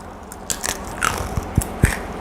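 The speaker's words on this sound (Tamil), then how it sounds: "மொறுன்னு இருக்கிற ஸ்நாக்ஸை சாப்பிட்றேன். பாருங்கள், கடக்கு முடக்குன்னு சத்தம் வரும்." Crisp bites into a crunchy fried maida-flour tea-time snack, close up, with a few sharp crunches scattered through and a louder pair near the end, no talking.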